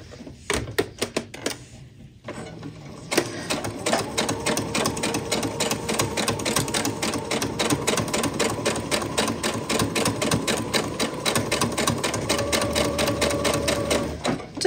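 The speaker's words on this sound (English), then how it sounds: "now I'm just going to sew along that edge" A sewing machine stitches along the fabric edge of a coaster, a rapid, even mechanical chatter that starts and stops in short bursts, then runs steadily and close for the rest.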